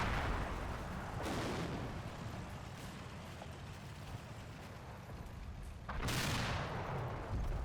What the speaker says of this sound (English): You can get a lot of shots out pretty quickly.